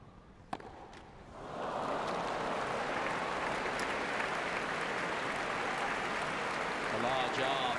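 A large crowd at a 2012 Wimbledon women's quarter-final tennis match bursts into a sustained roar and applause after a single sharp clap near the start, swelling quickly and holding loud and dense to the end.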